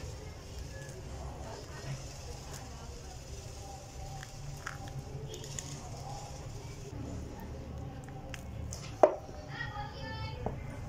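Bael wood apple with a very hard shell being cut into pieces, soft steady knife chops and thuds against a low background hum, with one sharper knock near the end.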